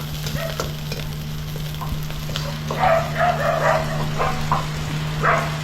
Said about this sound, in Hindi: ये आपका गार्लिक को हल्का से ब्राउन करना है